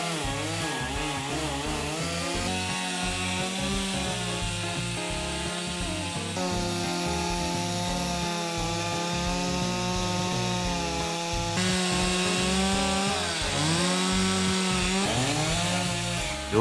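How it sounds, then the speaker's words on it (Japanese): A chainsaw cuts through the back side of a huge, roughly 300 kg zelkova (keyaki) log with a rotted outer surface, running loud and steady at full throttle with small shifts in pitch as the bar bites into the wood, with no talk. "反対側裏面も切っていきます。"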